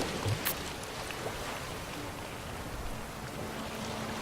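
In The Witcher 3 video game, steady rainfall hisses and patters continuously with wind, a few sharper drops early on and a low rumbling undertone.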